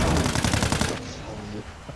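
Rapid automatic gunfire in a video game as characters shoot at an alien, a loud dense burst of shots for about a second that then trails off into softer rattling.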